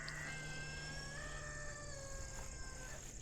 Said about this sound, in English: Did you hear that rooster crow?